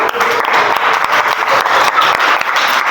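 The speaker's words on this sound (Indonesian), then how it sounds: "Bagus, tepuk tangan anak-anak." Schoolchildren clapping in an Islamic religious education class, a loud, close burst of many hands clapping with sharp individual claps standing out, sustained for several seconds with faint chatter underneath.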